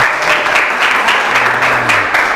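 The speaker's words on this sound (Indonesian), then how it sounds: "Tepuk tangan kelompok 5." Classroom applause bursts out for a student group, a dense, even clapping from many hands that holds steady for a couple of seconds.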